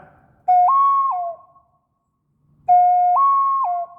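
Two identical whistled calls from a Thai khlui flute, each rising a step then dropping back, separated by a pause of silence, imitating the two-syllable call of a koel bird.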